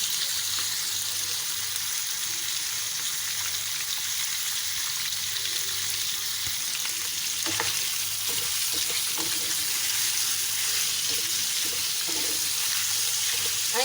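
Liver masala, Sindhi kaleji curry, frying in a pan while being turned over quickly and often: a constant close sizzle with scattered scraping stirs, no speech.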